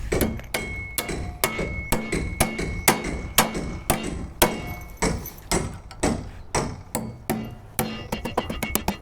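Hammer blows driving nails into timber wall framing, a steady run of sharp, loud close-up strikes with short gaps that quickens into rapid bursts near the end.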